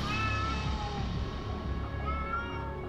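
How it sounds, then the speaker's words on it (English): A cat meows in the video game Astral Chain, a high, drawn-out meow heard faintly over steady game music and ambient background. "Is there a cat in that?"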